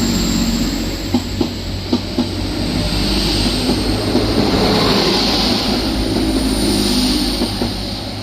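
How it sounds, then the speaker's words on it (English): Two coupled Class 185 diesel units, 185118 and 185135, on a Redcar Central to Manchester Airport service, pass at Thirsk with a loud steady roar, rhythmic wheel clicks over rail joints and a high whine, heard close with no voices. "Next we have 185118 and 185135 with 1 Papa 70 1P70 from Redcar Central to Manchester Airport."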